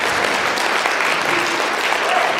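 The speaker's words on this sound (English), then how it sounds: "round of applause for that" Loud, dense applause from an audience at a Muslim student association annual dinner, a steady close wash of many hands clapping throughout with no talk over it.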